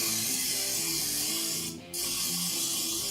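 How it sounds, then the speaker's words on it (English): A single short burst of spray from a pump oil bottle, lasting a fraction of a second, over steady background music. "So I'm just gonna give it a spray."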